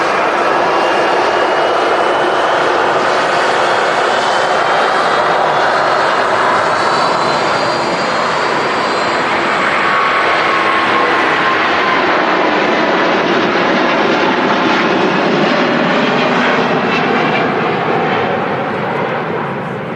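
Airliner jet engines roar loudly and continuously as the plane departs Manchester Airport, a dense, powerful rumble with a sweeping tonal whine that slowly shifts in pitch and begins to fade as the aircraft moves away.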